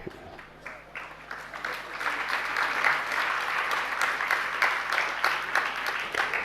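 Sustained applause from a crowd at a religious discourse, many hands clapping steadily and fairly loudly throughout with no talking.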